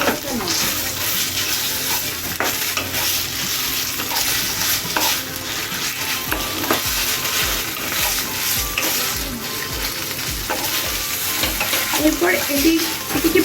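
Chhana and sugar mixture cooks in a pan over low-medium heat while being stirred, producing a continuous soft sizzle with repeated scraping strokes and occasional clinks, close and fairly loud throughout.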